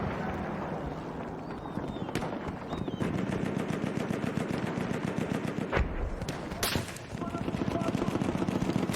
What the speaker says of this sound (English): Oh, someone's shooting at me.